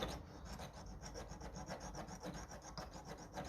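A file worked across the solder blob on a 1957 Ferguson FE35 TVO tractor's Zenith 28G carburettor, giving a quiet, continuous rasping scrape in quick, even back-and-forth strokes.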